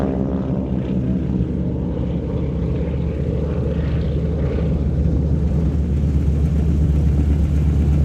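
Aerosuperbatics wing-walking display aircraft in orange livery, with wing walkers on board, fly at an airshow with a loud, sustained propeller-engine drone that holds steady and close throughout.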